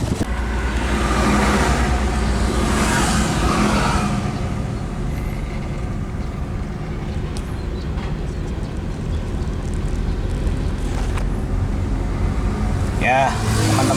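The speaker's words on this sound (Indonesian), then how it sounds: "kita tes kalau berjalan apakah pada RPM rendah dia masih juga putus-putus pengapiannya atau sudah mantap" A car drives at low RPM after an ignition repair, its engine and road noise forming a steady, loud rumbling drone that stays smooth and even throughout.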